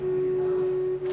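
A steady, low electronic tone, one of a set of app-generated tones that stand for colours, here for orange. It holds unbroken and fairly loud for about a second.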